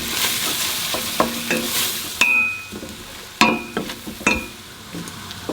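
Spice mix frying in roughly 50 to 60 grams of melted butter, a steady close sizzle broken by several sharp scrapes and clinks of a utensil stirring the pan, with no talking.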